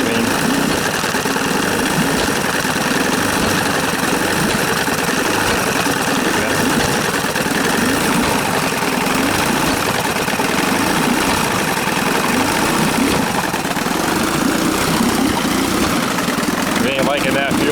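A 1955 Chris Craft boat engine runs loud and steady after a cold start, a continuous rough idle with knocking vibration throughout.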